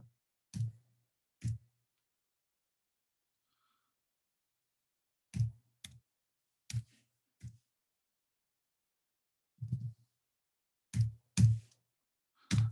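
Sparse, quiet clicks of computer keys come in short clusters separated by long silent gaps, close and isolated with no talking.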